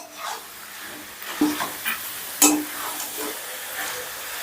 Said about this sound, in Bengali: সোয়াবিন আর আলুটাকেও ধরো 2 থেকে 3 মিনিটের মতন বেশ ভালো করে কষে নিতে হবে